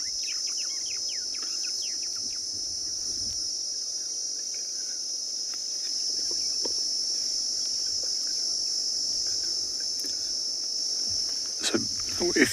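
Insects in the bush, cicadas or similar, keep up a loud, steady high-pitched drone without a break, with faint bird chirps scattered through it and a brief sharper call near the end.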